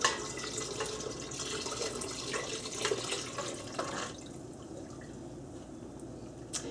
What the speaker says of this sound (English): Now I'm going to add it into the big soup, and I've got my big spoon, and I'm going to stir that as I go.